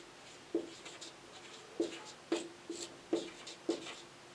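Writing on a board during a maths lesson, with about six distinct quick strokes and taps spaced across a few seconds, quiet and near, with no voice.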